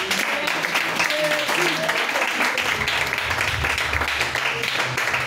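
A church congregation applauding and acclaiming the Lord Jesus, a steady wash of clapping with voices and music mixed through it, loud and continuous throughout.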